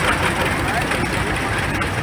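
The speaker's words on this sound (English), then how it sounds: "Here's Kathy in a 1952 John Deere AO." A restored 1952 John Deere AO orchard tractor rumbles by in a parade at an old engine show, a steady low engine drone with crowd and announcer talk over it.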